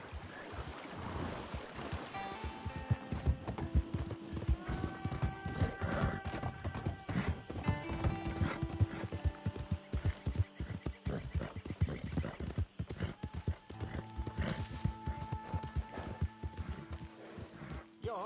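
Hooves clip-clop steadily from a horse in Red Dead Redemption 2, a quick uneven patter of knocks mixed with in-game music tones and scattered clatter, fairly faint throughout.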